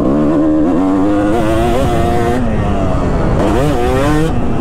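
A Kawasaki KX250 two-stroke motocross bike rides a rutted, bumpy track, its engine loud and close, buzzing high and rising and falling in pitch as the throttle opens and eases off.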